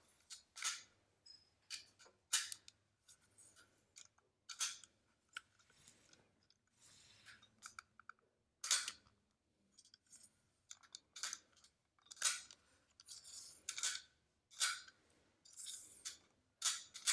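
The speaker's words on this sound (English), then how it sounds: "You can hear that it would click twice as the bead passes." Beads slide and click on a toy adding and counting machine, the Little Accountant, giving sharp, close, irregular clicks in quick pairs and short bursts, faint and alone in a quiet room.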